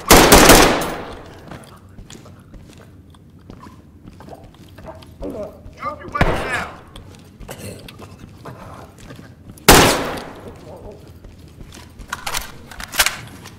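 Gunfire in the tactical police shooter Ready Or Not: loud, sharp bursts of shots at irregular intervals, separated by quieter stretches where voices talk.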